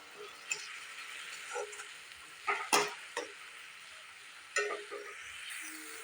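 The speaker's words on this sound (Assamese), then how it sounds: "এয়া কেঁচা মছলাখিনি মই ভালদৰে ভাজি ল'ম।" Raw spice paste frying in a pan for an egg curry, a soft, quiet sizzle broken by scattered clicks and scrapes from stirring.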